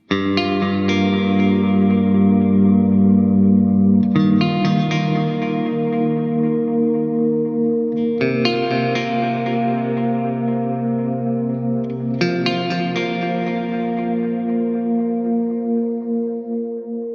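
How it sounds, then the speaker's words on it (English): Four strummed electric guitar chords through a Line 6 Helix with tape delay ring out at steady intervals, each followed by trailing echoing repeats that fade, played clean with reverb and no voices. "This one kind of has like a really obvious delay sound coming after it."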